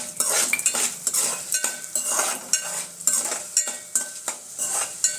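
Coriander seeds and chana dal roasting dry in a pan for karivepaku podi, stirred with a spoon that scrapes and clinks against the metal in steady repeated strokes, close and fairly loud with a faint sizzle beneath.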